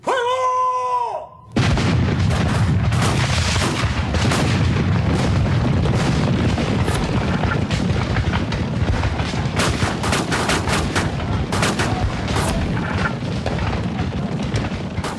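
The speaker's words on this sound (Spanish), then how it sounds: "se escuchó el primer cañonazo" Battle with cannon fire and small-arms gunfire: after a brief tonal opening, dense continuous booms and crackling shots pile up loud and close, sharp reports repeating irregularly over a rumbling background for the rest of the clip.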